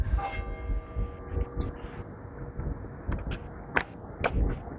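Bath Abbey's bells ring out over the city, a few resonant strikes with lingering hum, heard at a distance over outdoor street ambience.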